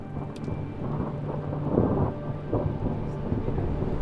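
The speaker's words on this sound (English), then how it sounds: "a summer thunderstorm lets loose" Summer thunderstorm breaking over agave country near Arenal, with steady rain pattering on surfaces and low rolling thunder rumbling through, loud and close, no voices.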